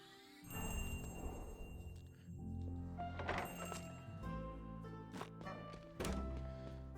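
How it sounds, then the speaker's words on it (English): Bell rung in the video game Moonlighter 2, heard as a few bright metallic dings and tinkling chimes over low thunks and background game music. "I ring this bell."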